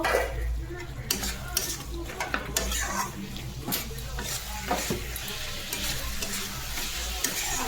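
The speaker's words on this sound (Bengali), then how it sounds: "আমার পেঁয়াজটা কাটা আছে ডুমোওয়ালা আমি দিয়ে দিলাম দিয়ে আমি হালকা নেড়ে নেবো" Diced onion fries in a pan for paneer chilli and is stirred lightly, a steady close sizzle broken by repeated clanks and scrapes of a spoon against the metal, with no talking.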